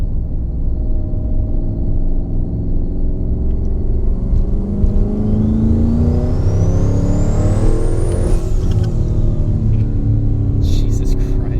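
Twin-turbo Ford Mustang engine dropping from fifth to third gear, a loud, close cabin rumble that rises in pitch as revs climb, with a faint turbo whistle sweeping up and then falling near the end.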